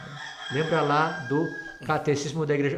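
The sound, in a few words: rooster crowing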